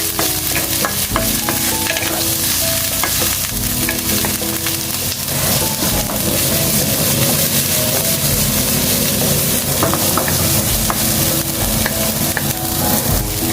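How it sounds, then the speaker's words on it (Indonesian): Onion, garlic and ginger stir-frying in a pan, with a steady close sizzle and frequent scraping stir strokes running throughout at a constant loud level. "Masuk dulu ini, langsung di saute nih, bawang bombay,"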